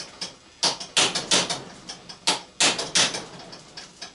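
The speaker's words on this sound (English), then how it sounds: "I grab a punch and a hammer" Steel punch struck with a hammer to drive a bearing out of a miter saw being scrapped: a string of sharp, ringing metallic taps at an uneven rhythm, close and loud with no voices.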